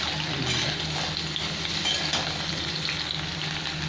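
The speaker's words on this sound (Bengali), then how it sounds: "এই গোল গোল চাকা চাকা করে কেটে নিয়েছি আমি, সবগুলো ভেজে নেবো ভালো করে" Round slices of pointed gourd (potol) frying in hot oil for masala potol bhaja, giving a dense, continuous close sizzle with faint utensil movement and no talking.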